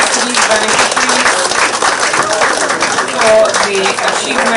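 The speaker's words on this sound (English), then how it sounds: "We have a round of applause as congratulations to these beneficiaries" Crowd applause congratulates new home owners at an outdoor community ceremony in San Fernando, a steady wash of clapping with voices talking over it.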